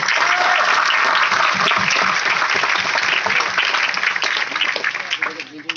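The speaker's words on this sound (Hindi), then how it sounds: "एक बार जोरदार तालियां आपके लिए।" Loud, dense applause from an audience at an earning-focused seminar, sustained clapping close and full for several seconds before thinning out toward the end.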